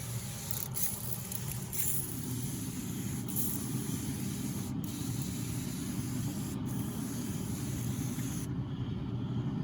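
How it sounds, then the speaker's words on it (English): Spray bottle spraying while priming lunch food with cherry Dr. Pepper, short hissy bursts standing out over a steady, loud background rumble, fairly close. "Just really start spraying that thing right there."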